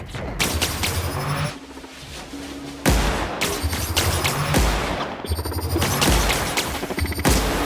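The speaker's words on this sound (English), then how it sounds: "the robots are shooting at each other" Robots exchange rapid gunfire in The Outer Worlds, dense bursts of automatic shots and booms in close succession, loud and continuous with brief lulls, no talking.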